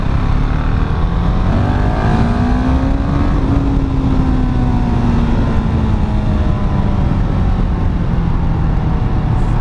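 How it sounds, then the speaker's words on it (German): A motorcycle engine drones loud and close with wind rushing past, its pitch rising steadily as it accelerates, then easing slightly as it holds speed, no voices. "Ich will die Anwohner hier natürlich nicht nerven mit meinem Motorsound."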